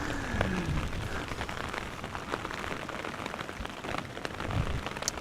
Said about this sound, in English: let me give you some rainfall